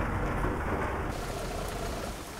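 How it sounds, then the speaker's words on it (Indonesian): Steady rain pours onto a bus travelling in a nighttime homecoming convoy, a dense, even hiss of drops drumming on the vehicle with a low rumble underneath, continuous and close with no talking. "Sambut air hujan."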